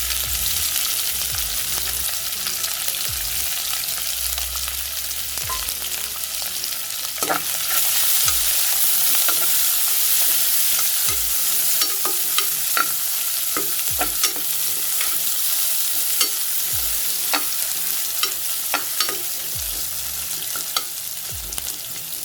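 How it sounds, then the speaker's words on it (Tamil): Onions and green chilli sautéing in a pan for channa rice, a steady close sizzle of frying with repeated scrapes and stirs of a utensil throughout, no talking. "கொஞ்சம் வெங்காயம் வதங்கட்டும்."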